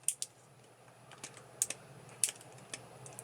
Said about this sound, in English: you can still see that little gray piece that's inside that makes the clicking sound